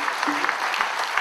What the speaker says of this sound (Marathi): तो येण्याच्या अगोदर तुम्ही टाळ्या मारा.